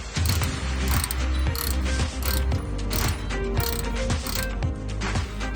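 A ratchet wrench tightens a bolt on the rear suspension of a 2013 Mazda 3, rapid loud close clicking in repeated bursts of cranking, no talking.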